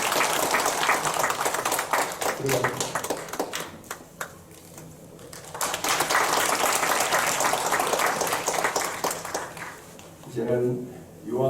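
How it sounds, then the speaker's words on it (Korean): Church congregation applauding during a Sunday worship service, a loud sustained wash of clapping with someone speaking over it and in the pauses. "자, 큰 박수로"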